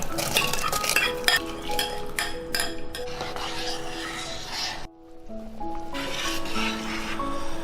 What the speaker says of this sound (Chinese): 这瑶柱我们煮开了有5分钟了，可以把米加进来